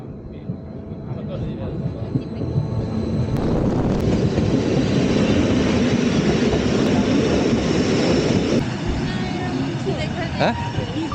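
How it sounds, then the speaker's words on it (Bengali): The Bernina Express pulls into a station in the Swiss Alps, with a low rumbling roll of wheels and carriages that swells and then eases off, while people talk nearby throughout. "আমাদের ট্রেন চলে এসছে"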